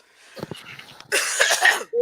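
A single harsh, rasping cough bursts out close by after a few soft breathy sounds, lasting most of a second before a short voiced sound.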